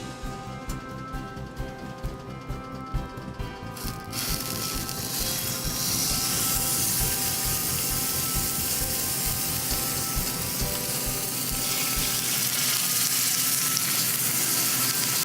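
Steak sizzles loudly in olive oil in a pan, a dense, continuous frying hiss that swells after the meat goes in and stays close and steady.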